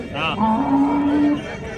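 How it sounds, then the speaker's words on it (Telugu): A native Punganur-area cow at a cattle market gives one long, loud moo close by, a drawn-out low tone that swells and then fades. "ఇక్కడ ఆవు ఉంది."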